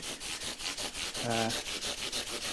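Guitar frets on an Epiphone ES339 are sanded with 400 grit sandpaper on a block, a close, rhythmic back-and-forth rubbing in quick regular strokes with a brief tonal ring midway.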